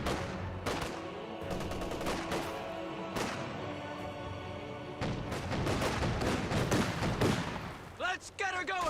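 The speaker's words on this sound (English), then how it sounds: "Grenadiers firing away." Volksgrenadier rifle fire in Company of Heroes 2, loud sustained battlefield gunfire with repeated sharp shots and bursts layered over heavy combat noise, ending in a few choppier blasts.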